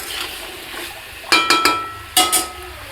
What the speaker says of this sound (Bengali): পটল আর আলু এবার একবারে আমি বেশ অনেকক্ষণ ধরেই কষাবো